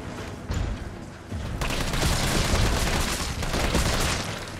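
Gunfire aimed at zombies in Resident Evil 3 Remake, a burst of loud, rapid shots and booming impacts that swell into a sustained, dense barrage up close.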